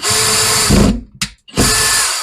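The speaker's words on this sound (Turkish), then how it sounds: "Şarjlı matkabımla" A cordless drill drives a screw into an automatic trash bin during assembly: a loud, close whirring burst, a short pause with a brief blip, then a second sustained run.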